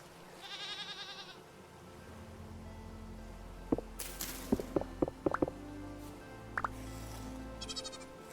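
Goats bleat in a video game farm: two nasal, wavering bleats come early and near the end, with sharp drip-like clicks and taps scattered between them over a low steady hum.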